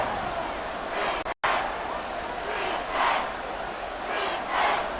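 Stadium crowd noise in the NFL 24 football video game, Chiefs versus Buccaneers, a steady roar with swelling cheers that rise and fall every second or so, brief dropout near the start, no talk.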